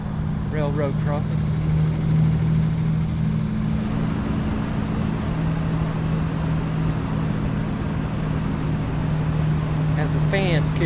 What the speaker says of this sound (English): As the fans kick in on the engine.